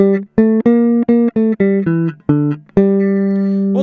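A bass guitar plays a melody as plain notes without harmonics: about a dozen clear, closely spaced notes in a bouncing phrase, ending on a long sustained tone, loud and alone.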